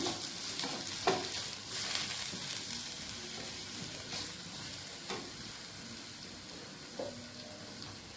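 Onions and tomatoes frying in a pan, a soft continuous sizzle with intermittent stirring clicks and scrapes, fairly quiet and close, no talking.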